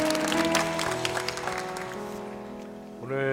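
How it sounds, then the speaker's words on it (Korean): A congregation at a Sunday church service claps steadily over sustained organ-like music, the applause thinning out as the music continues. "하나님께 감사의 박수, 영광의 박수 올려드리겠습니다."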